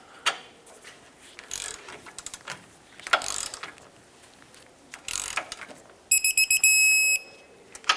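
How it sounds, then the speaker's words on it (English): Ratchet with a 19mm socket tightening the front lower control arm bolts on a 1996-2002 Toyota 4Runner, bursts of rapid clicking between pauses, ending with a series of tones from a torque wrench reaching its setting. "Let's tighten this up and torque them to 101 foot-pounds."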